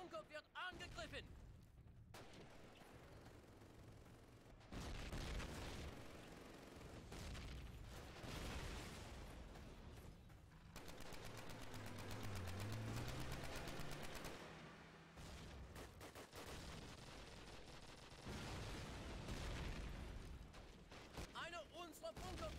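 Grenade blasts and bursts of gunfire in Call of Duty: United Offensive during a base assault on a bunker, sustained loud rumbling explosions and rapid shots throughout, with shouted voices mixed in.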